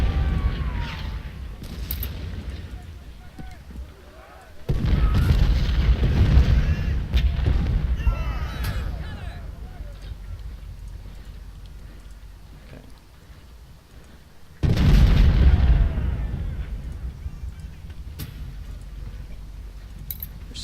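Artillery bombardment in the Civil War strategy game Ultimate General: Civil War at First Bull Run, with two loud booming cannon volleys that roll and fade, mixed with distant gunfire crackle.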